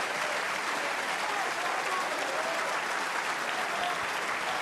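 Crowd at a snooker World Championship semifinal between Judd Trump and Mark Williams applauds loudly and without a break, a dense, even roar of clapping.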